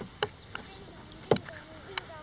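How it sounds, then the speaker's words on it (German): A canoe is paddled on open water during a bushcraft trip, with a few sharp, close dips and splashes of the paddle spaced irregularly over quiet background. "Ich paddel heute mal, statt zu laufen oder Fahrrad zu fahren."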